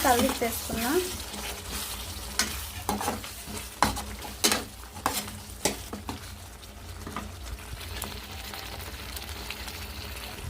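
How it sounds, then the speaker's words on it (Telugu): A chicken and fenugreek curry with chicken liver bubbles and sizzles loudly in a pan, with continuous frying hiss and intermittent stirring scrapes and clinks close up. "చికెన్ మెంత్ కర్రీ అయితే బాగా బగబగ మండిపోతుందండి బాగా బాగా మరిగిపోతుంది"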